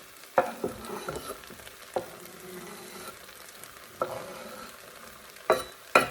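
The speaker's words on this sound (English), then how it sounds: "I'll put these onions into the pot." Chopped onions drop into a hot pot and start frying, bursts of sizzling and crackling with a few sharp scrapes and clatters of stirring, close and clear with no talking.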